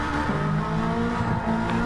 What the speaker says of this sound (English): You can hear that car revving.